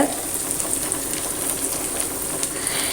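Beaten egg mixture with onion sizzles in a frying pan for a mixed omelette, a steady, close hiss and crackle with no pauses and no voice.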